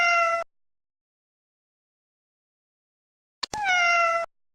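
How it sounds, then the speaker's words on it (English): A kitten gives two clear, high meows separated by silence, each bright and close, the second slightly longer with a small click before it. "Kitten."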